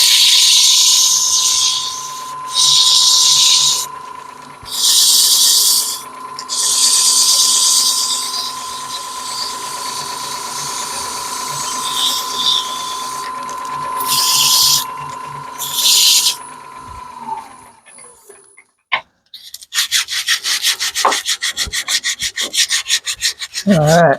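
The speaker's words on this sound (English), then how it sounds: "Now just finish sanding it." A wooden crush grind peppermill is sanded on a spinning lathe, with repeated bursts of loud, hissing abrasive rubbing over a steady motor hum, then the lathe spins down and rattling clicks follow.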